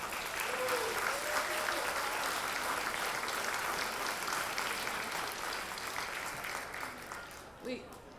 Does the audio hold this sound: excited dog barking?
no